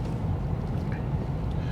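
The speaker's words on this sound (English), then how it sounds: "Oh, it's got a bit of grunt to it. This is the diesel engine. I believe this is the E220d." A Mercedes E220d diesel engine while driving gives a steady, low droning rumble with road and wind hiss, continuous for the whole stretch, with no talking.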